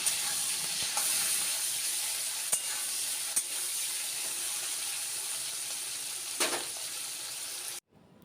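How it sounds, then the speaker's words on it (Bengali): Shrimp marinated in turmeric and salt fries lightly in oil, giving a steady close sizzle with a few sharp spits and pops, cutting off abruptly near the end. "হলুদ নুন দিয়ে মেখে রাখা চিংড়ি মাছটাকে হালকা করে ভেজে নেব।"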